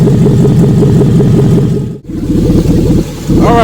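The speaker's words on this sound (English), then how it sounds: "We got idle now." L33 5.3 LS V8 swapped into a G20 van, idling close and loud with a steady, lumpy rumble that dips briefly midway, then settles back into an even idle.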